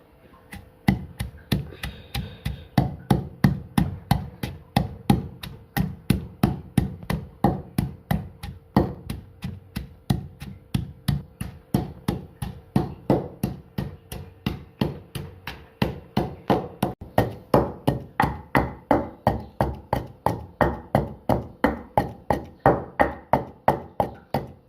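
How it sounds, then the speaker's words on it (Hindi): Green chilies, pomegranate seeds and salt pounded in a mortar, a close, steady run of sharp thudding strikes repeating roughly three times a second throughout. "अब मैं इसको अच्छी तरह कूट लूँगी।"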